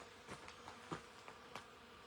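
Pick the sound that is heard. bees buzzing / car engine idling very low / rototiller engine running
bees buzzing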